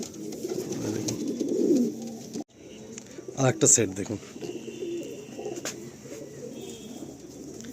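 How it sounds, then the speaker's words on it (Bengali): Malwai, Madrasi and Andhra pigeons coo in a loft, with low murmuring calls and a brief burst of fluttering or clattering partway through, while someone speaks over them. "দেখুন পায়রা পুরো অ্যাক্টিভ হয়ে রয়েছে।"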